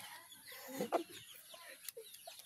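Rooster at a cockfighting venue giving a few short, fairly close clucks around the middle, with faint background noise and no talk.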